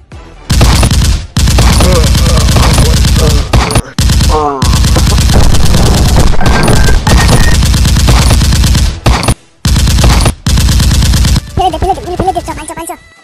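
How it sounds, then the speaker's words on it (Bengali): Gunshot sound effects in a Bangla comedy sketch burst out in long, loud, continuous rapid-fire volleys with brief gaps, followed at the end by a few short voices. "গুলি কর কালো কুত্তা, গুলি কর"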